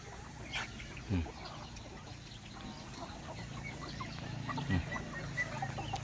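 Chickens raised together with ducks and rabbits on a farm in Laos cluck faintly in the background, with a couple of sharper, closer calls standing out from a low, steady ambient hum.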